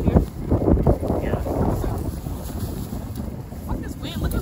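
Strong wind blows outdoors, roaring and buffeting the microphone in loud, close, low rumbling gusts that swell and ease without a break, with faint muffled voices underneath.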